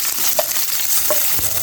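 Ginger sautés in a hot pan, a steady close sizzle of frying with a few light scraping stirs, alone without talk.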